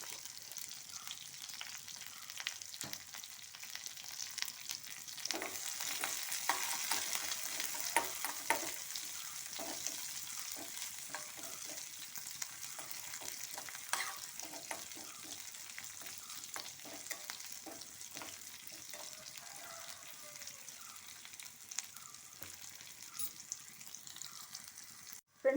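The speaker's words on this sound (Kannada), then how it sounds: "ಈಗ ಒಗ್ಗರಣೆ ರೆಡಿಯಾಗಿದೆ" Ginger and spice tempering sizzles in hot oil in a pan for a poha breakfast, a continuous crackling fry with occasional stirring clinks, moderately quiet and unvoiced throughout.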